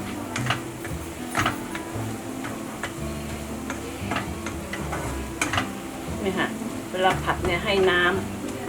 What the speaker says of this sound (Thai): เวลาผัดพวกนี้ใส่เกลือลงไปผัดใส่พริกไทยผัด